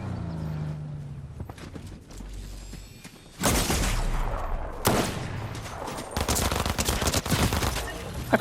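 Rapid gunfire bursts from the Fortnite video game, loud dense volleys of automatic shots that come in after a quieter stretch and continue nearly without pause.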